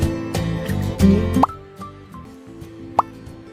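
Prawns dropped one by one into a green coconut, giving soft wet plops and drips at irregular intervals, with a couple of sharper clicks near the end; no talking.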